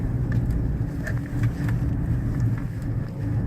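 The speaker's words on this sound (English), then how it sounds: "I'm just going to accelerate a little bit through the traffic circle here" A Mazda car accelerates through a traffic circle, its engine a steady, moderate drone from inside the cabin with faint road and wind noise.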